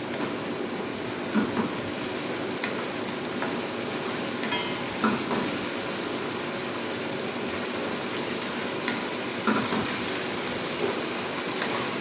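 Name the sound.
onions frying in a pan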